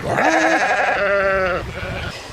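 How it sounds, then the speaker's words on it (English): Sheep on a farm bleat in a few loud, close, wavering calls, one after another, with a brief quieter stretch at the end. "Our sheep are pretty much, our weed whackers, our grass cutters."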